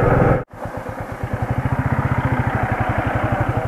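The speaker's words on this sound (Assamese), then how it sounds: "বাইকখন এটা পাৰ্কিং কৰি লওঁ" A motorcycle engine idles close by while the bike is being parked. After a brief cut, a steady, even, rapid chugging pulse continues alone.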